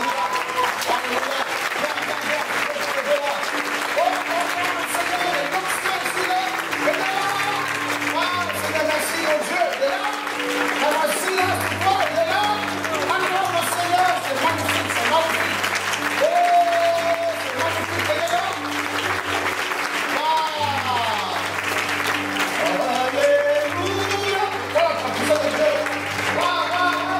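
Church congregation applauding during a lively worship service, steady sustained clapping throughout with a crowd and raised voices mixed in, loud and continuous.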